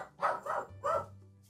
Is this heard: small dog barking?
yes